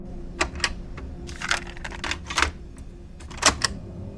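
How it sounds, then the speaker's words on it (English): A cassette tape is handled and flipped over to side B: a series of close, sharp plastic clicks and clacks in irregular bursts, with quiet pauses between them. "flipped the tape around to side B"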